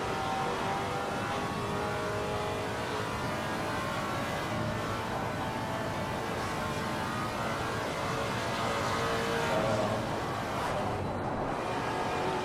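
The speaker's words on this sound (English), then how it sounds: "It's a very throaty sound. It growls." A Maserati race car engine in a racing game growls continuously at a steady distance, a throaty, rumbling drone with no voices over it.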